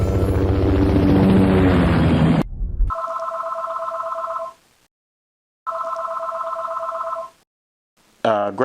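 A telephone rings in two loud, even bursts separated by a short silence, with a brief blast of other noise just before the first ring.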